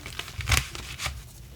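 A deck of tarot cards is shuffled by hand, giving two or three quick papery riffles close up with soft rustling between them, no talking.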